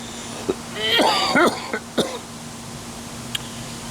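A few short, harsh coughs close by, with a brief throaty burst in the middle, then quiet with faint background hum.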